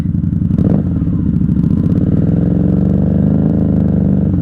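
A 1994 Honda Magna 750 (VF750C) engine idles close by at night with a steady, throbbing rumble, a brief rev near the start, then holding an even lumpy idle.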